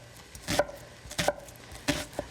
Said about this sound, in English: So we're going to just dice this really finely.